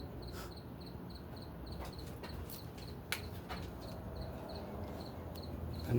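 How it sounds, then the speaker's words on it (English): Crickets chirp at night in a steady, faint, pulsing rhythm against a quiet background, with a few soft knocks and no talk. "And these fucking crickets."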